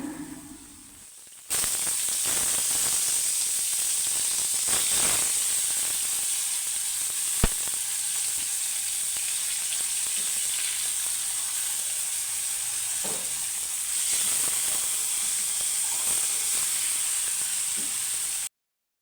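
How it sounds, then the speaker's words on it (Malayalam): Fish fries in hot oil with a loud, steady sizzle and hiss that starts abruptly and continues unbroken, broken by an occasional faint clink. "നമ്മൾ മീനും അങ്ങനെ വറുത്തെടുക്കുകയാണ്"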